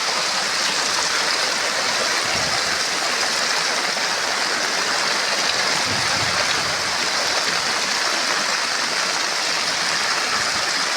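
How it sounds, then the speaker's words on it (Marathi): A waterfall pours in a constant, dense rushing hiss of falling water that fills the whole stretch without pause or change. "हे वॉटरफॉल बघण्याची खूप इच्छा होती म्हणून आहे."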